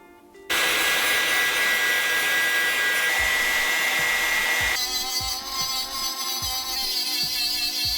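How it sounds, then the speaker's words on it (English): A grinder runs loud and steady against a cracked, rusty exhaust manifold on a high-mileage BMW, starting abruptly after a brief quiet moment and holding a continuous high-pitched whine, with the pitch dropping slightly partway through. "I will grind the rust off the cracks."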